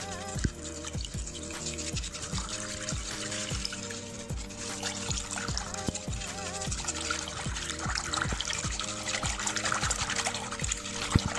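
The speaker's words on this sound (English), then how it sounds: "just break in those 4 eggs and just give that a good whisk" Four eggs are whisked in a bowl for cream cheese lemon doughnut dough, with close, steady rhythmic clinking and wet sloshing, no talk.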